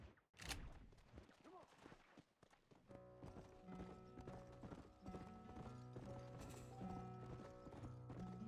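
Clip-clopping horse hooves in Red Dead Redemption on PS5, with a neigh near the start and steady rhythmic hoofbeats layered under game music and mechanical noise, fairly close and continuous.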